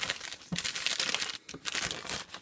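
A small parcel envelope is opened at the corner, giving close, continuous crinkling and rustling of plastic or paper packaging.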